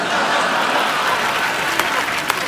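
Studio audience clapping on a comedy show, steady dense applause filling the whole stretch with a couple of sharper claps near the end.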